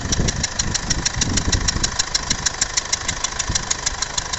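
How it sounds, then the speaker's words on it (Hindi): A Mercedes-Benz CLA 200d diesel engine idles close by with a leaking number 4 injector, giving a fast, regular ticking and puffing knock over a steady mechanical drone. "ये 4 नंबर इंजेक्टर है ना, ये इसका कंप्रेसर बाहर निकाल रहा है। ये इंजेक्टर लीक है"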